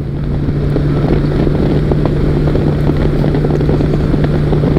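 Honda Valkyrie motorcycle cruising at about 75 mph on the highway, a steady, loud engine drone with heavy wind rush running unbroken throughout.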